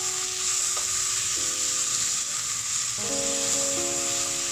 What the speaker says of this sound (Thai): ผัดไปจนเนื้อไก่เราสุกนะครับ